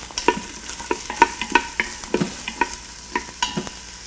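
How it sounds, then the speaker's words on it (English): Onions sauté in olive oil inside an Instant Pot, a soft sizzle under repeated close scraping and stirring strokes from a utensil, with no voices. "we're gonna saute onions"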